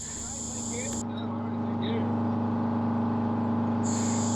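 Boat Renko cruising under a rebuilt Detroit Diesel 4-71 engine, a steady near diesel drone with strong low harmonics running continuously under faint background noise.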